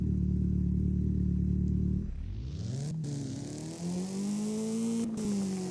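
A car with a 2.4-liter inline-four in the Driving Empire video game revs steadily, then its engine note drops and climbs again in a loud, rising acceleration with a brief gear-change dip.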